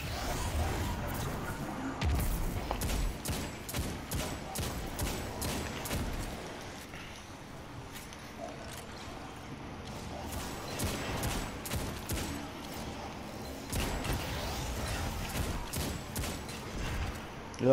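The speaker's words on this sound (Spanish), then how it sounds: "Creo que te están disparando" Gunfire in a Destiny 2 Nightfall strike, The Ordeal on The Inverted Spire, fills the scene as repeated sharp shots and bursts over a busy game soundscape, with a sustained volley near the start and more spaced cracks later.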